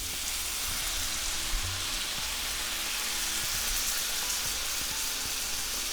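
Champagne poured into a pan of softened, browning sautéed shallots, hissing and sizzling in a steady, dense crackle with faint pops, close and continuous with no voices.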